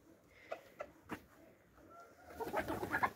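Chickens and other backyard poultry cluck in short, separate bursts that become a denser, busier stretch of clucking toward the end, heard close by with no talk over them.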